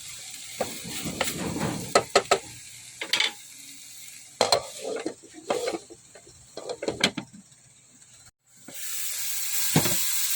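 Santol and aromatics being sautéed in a pan for ginataang santol, with repeated sharp stirring scrapes and clatters over a low sizzle, ending in a brief steady hiss of frying.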